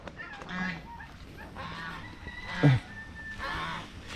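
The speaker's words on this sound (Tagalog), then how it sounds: "Gansa nandyan." Geese honk nearby in scattered calls over a busy farmyard background with turkeys and ducks, with one loud close honk near the end.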